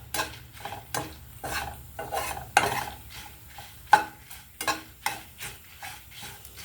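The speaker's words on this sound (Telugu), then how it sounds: "మిరపకాయలు వేగిపోయినాయండి," Dried red chillies fry in a tempering for gongura and ridge gourd peel chutney, a moderate sizzle broken by rhythmic scraping stirs and a few sharper clinks of a utensil against the pan.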